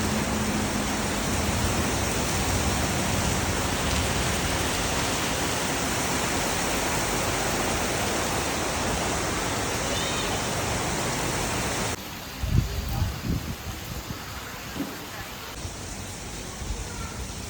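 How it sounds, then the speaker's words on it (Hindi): Heavy rain pours at a resort in Ao Nang, Krabi, Thailand, a steady dense hiss that fills the space, then drops to a softer patter with nearby knocks and shuffles for the last few seconds. "वेदर इतना ज़्यादा ब्यूटीफुल हो गया, बारिश होने लगी।"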